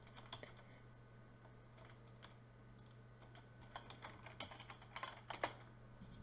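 Computer keyboard typing during a Minecraft JumpLeague session, a quiet run of irregular key clicks that grows busier and louder toward the end, over a steady low electrical hum.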